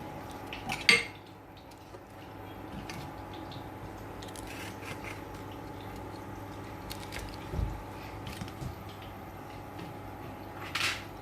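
Chicken with onions and raisins is moved into a serving dish, giving a sharp utensil clatter near the start, then soft scraping and clinking of cutlery against dishes, with one more bright clink near the end and no talking.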